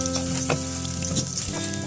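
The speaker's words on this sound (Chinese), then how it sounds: "锅中加入适量食用油，然后倒入打好的鸡蛋" Beaten eggs fry in hot oil in a wok, giving a dense, close, continuous sizzle with faint crackles, steady throughout the brief moment with no voices.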